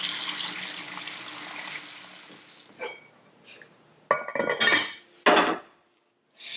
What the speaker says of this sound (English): Once everything is in the pot, we're going to start to add water.